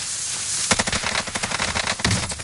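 Video game gunfire crackles in rapid automatic bursts, a quick string of sharp close shots arriving in uneven clusters after a short quiet lead-in.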